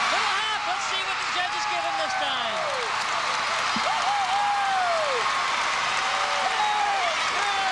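A large arena crowd at a 1997 professional gymnastics championship applauds and cheers loudly and continuously after a men's routine, with whistles and shouts rising over the sustained clapping.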